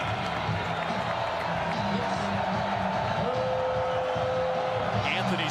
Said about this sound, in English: Let's see how warmed up this crowd at the zoo is.